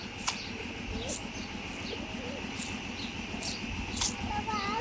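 Pigeons coo softly at a moderate distance while being fed a ground feed mix, with faint chirps, a few sharp clicks and low background rumble, the birds' calls fairly quiet throughout.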